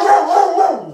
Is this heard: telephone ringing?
no